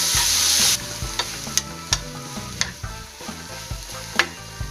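Onions and tomatoes, sprinkled with salt, fry in a pan with a continuous sizzle while a utensil stirs them, giving a series of sharp scraping clicks every half second or so, close and clear without speech.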